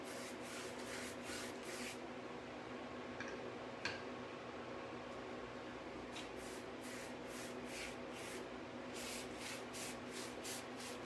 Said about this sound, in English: I'm going to try and just do a fine, very fine mist on there.